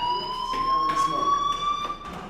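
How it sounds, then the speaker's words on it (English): A fire alarm sounds continuously, a loud, steady electronic tone that persists through the whole stretch, with faint voices underneath. "Hey, do you hear that fire alarm?"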